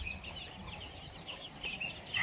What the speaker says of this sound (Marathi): हे बघा पिल्लं, हे 50 दिवसाची पिल्लं.